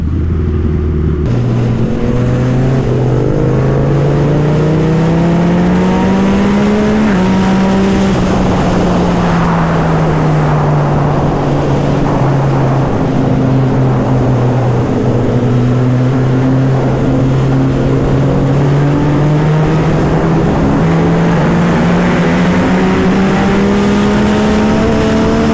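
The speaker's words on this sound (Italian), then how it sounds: "Facciamo un bel MT-09 SP2020 versus Panigale 959 di Dabierre." A 2020 Yamaha MT-09 SP and a Ducati Panigale 959 rev their engines one after another, loud and close, the pitch rising and falling in long sweeps that settle into a steady drone.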